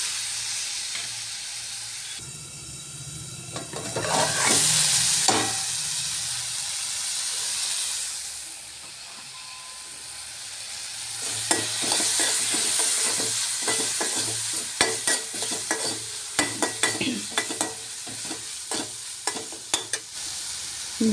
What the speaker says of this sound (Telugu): అలానే ఇప్పుడు దీంట్లోకి టమాటా ముక్కలు వేసుకున్నామండి. దీన్ని కూడా సిమ్లో మగ్గనిద్దాము.